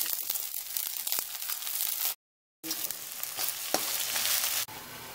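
Broken wheat roasting in a hot pan for upma, with onion and peas, gives a steady close sizzle and crackle that breaks off for a moment of silence, then resumes, with no talk.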